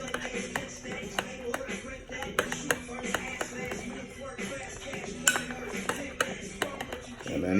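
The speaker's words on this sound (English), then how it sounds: "And you just mix it up like this." A utensil stirs meal-prep food in a dish, giving a steady run of close clinks, taps and scrapes against the container with no talking over them.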